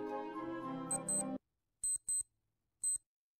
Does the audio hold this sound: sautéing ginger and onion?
no